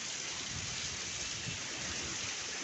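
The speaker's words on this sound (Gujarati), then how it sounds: "આજે પણ માર પછાડ વરસાદ આવ્યો ભાઈ." Heavy monsoon rain falls in a dense, even roar of drops on surfaces, a continuous broadband wash with no breaks, heard alone at a steady moderate level.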